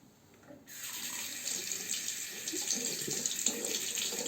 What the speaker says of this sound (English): how ridiculously easy it is to rinse the blade